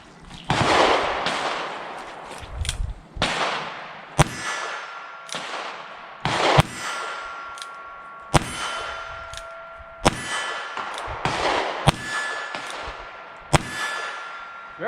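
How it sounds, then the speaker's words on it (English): Ruger Wrangler .22LR single-action revolver fired at hanging steel targets about 12 yards away, a series of sharp cracks each followed by a ringing metallic clang, spaced about a second or two apart, with no talk. "So let's take the first shots with this gun and see how she shoots. I got my steel hung down there about 12 yards."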